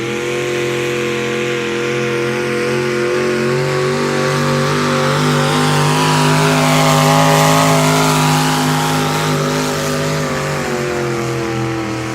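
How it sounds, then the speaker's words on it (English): A big block Mopar engine in a tractor-pull machine roars loud and sustained, its revs climbing and holding at a high pitch for the whole stretch with no voices over it. "That's big block Mopar, boy."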